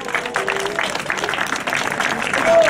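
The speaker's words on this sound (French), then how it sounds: "on peut l'applaudir" Audience applause at a Soissons Fête du Haricot café waiters' and waitresses' race, a steady wash of clapping greeting a prize winner, with voices and crowd chatter mixed underneath.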